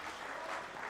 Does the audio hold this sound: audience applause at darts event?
yes